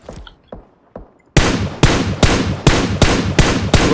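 Rapid gunfire in the PUBG Mobile battle royale game: a few faint distant shots first, then a loud, close string of sharp bursts fired in a steady rhythm.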